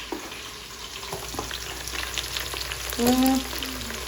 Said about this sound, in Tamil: வெங்காயம், பச்சை மிளகாய் சேர்த்துட்டு நல்லா வந்து பார்த்திங்கன்னா இது நல்லா கோல்டன் ப்ரௌன் வருத்தோம்